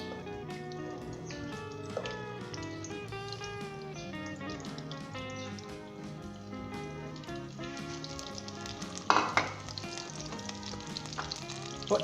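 Steady crackling sizzle of ginger, garlic and green chillies frying in hot oil, with occasional sharper pops and a brief stirring scrape near the end.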